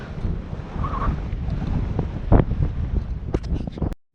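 Cool wind gusting steadily across the mic at a reservoir dam, a continuous broadband rush with a stronger gust near the middle and brief clicks near the end.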